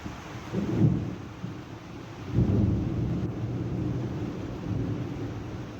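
Rain falls steadily after a hailstorm while thunder rumbles twice in low, rolling swells, the second roll longer and fading into the soft patter of the downpour.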